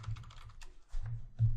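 Keys clatter on a computer keyboard as a number is entered, a quick run of close, crisp taps in short bursts with brief pauses between them.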